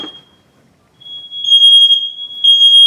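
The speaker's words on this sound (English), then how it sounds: "The only smoke detector working is this hallway smoke and carbon monoxide combo." A hallway combination smoke and carbon monoxide detector sounds a loud, piercing electronic tone in long sustained blasts after a quiet start, near and alone.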